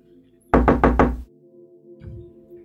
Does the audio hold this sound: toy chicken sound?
no